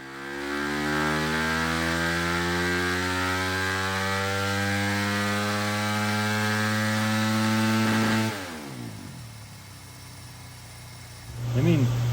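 A Yamaha YZ250 fitted with a 304cc Athena big bore kit runs on a dyno at half throttle, its loud two-stroke note rising steadily in pitch for several seconds, then dropping off to a lower rumble and flaring briefly again.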